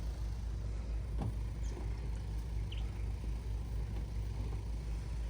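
A 4WD bogged in sand on Fraser Island (K'gari), its engine droning low and steady at moderate volume with slight fluctuations and a brief knock.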